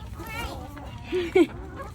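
Chickens cluck nearby in a backyard where eggs are collected, with a few short clucks and one louder squawk rising over a soft background murmur of voices.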